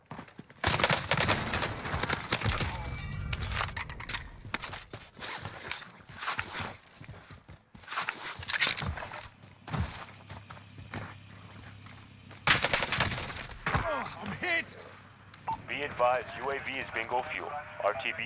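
Light machine gun fire in Call of Duty: Warzone, several loud rapid bursts broken by short pauses, with people talking over the shooting.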